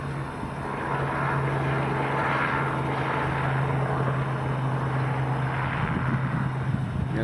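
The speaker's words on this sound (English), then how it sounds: "Got a helicopter flying around out here." A helicopter flies around over desert terrain near the Gila River, heard as a steady distant rotor and engine drone with a constant low hum running through it.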